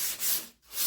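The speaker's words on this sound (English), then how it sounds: "you don't want to sand too hard." Sandpaper rubbed over a patched hole in a wall, two close, loud abrasive back-and-forth strokes with a short pause between them and no talk.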